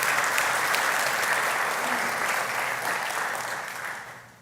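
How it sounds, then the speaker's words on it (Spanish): Church congregation breaks into strong applause for God during a sermon, a full, continuous crowd clapping that holds steady and then gradually fades. "Dale ese fuerte aplauso a Dios, porque Él se merece eso."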